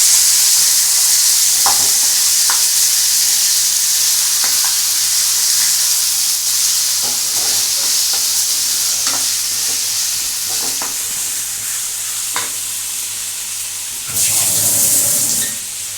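A pan of Bengali aar fish curry with green peas is stirred as it fries, giving a steady close sizzle with scattered scraping clicks from the spoon and a brief louder hiss near the end.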